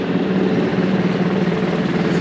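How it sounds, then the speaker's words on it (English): A military helicopter flying overhead, a steady, loud rotor-and-engine drone with a throbbing low pulse, continuous and without speech. "It's a military helicopter."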